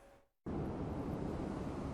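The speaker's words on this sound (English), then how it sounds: "the beaches are getting slammed by the choppy waves" Choppy surf slamming a beach on Hutchinson Island near Stuart in Martin County, Florida, at high tide during Hurricane Dorian, a loud steady roar of crashing water mixed with wind buffeting after a brief dip near the start.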